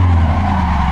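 Tires squeal and skid as a low-powered car drifts at slow speed around the Betim kart track in Assetto Corsa. The car is heard up close with a loud, continuous screech over a droning engine.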